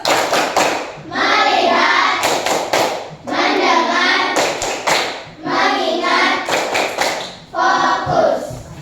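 Students in a classroom perform a rhythmic focus clap routine, quick sharp clap clusters alternating with group chanting voices in repeated phrases, close and lively.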